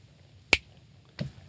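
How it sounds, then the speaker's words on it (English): Two crisp finger snaps ring out close up in a quiet room, the first sharp and loud, the second softer about two-thirds of a second later. "So you can make an audible break and snap your finger"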